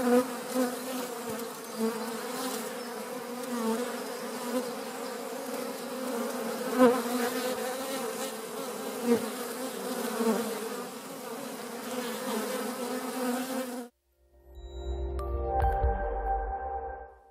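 Continuous, dense buzzing of a swarm of bees, steady and fairly loud for most of the stretch, then cutting off abruptly near the end into a short burst of unrelated sound.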